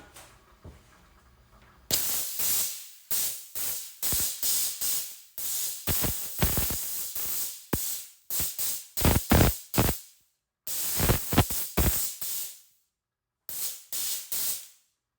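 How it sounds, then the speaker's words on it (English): A steamer blasts a gold and diamond ring in repeated loud, close hissing bursts of pressurized steam, each lasting about a second with short gaps, some longer sprays near the end. "Final step, we have our steamer, and we should be done."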